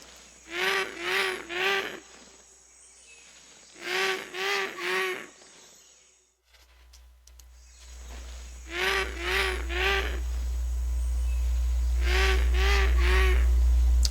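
A Valhad creature in a video game gives repeated honking, goose-like friendly calls in groups of three, with pauses between bursts, over a low rumble that swells toward the end.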